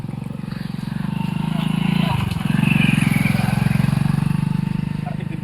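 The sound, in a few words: motorcycle engine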